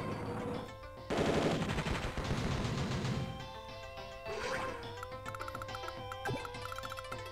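A B-copter's gunfire attack in Advance Wars: Dual Strike, a dense rattling burst of rapid machine-gun shots over game music, followed by quieter impacts and electronic effects, no talk.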